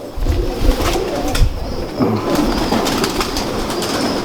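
Pigeons coo softly and repeatedly over a rustling, shuffling background, with no talking.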